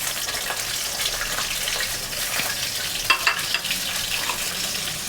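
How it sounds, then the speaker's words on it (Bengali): Pressed dried fish (shutki) frying in hot oil, a loud, continuous close-up sizzle with a brief burst of crackling midway. "এখন আমি এটার মধ্যে আমি সবসময় চাপা শুটকিটা আগে দিয়ে দিই তেলে"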